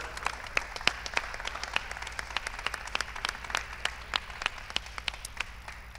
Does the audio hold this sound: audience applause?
yes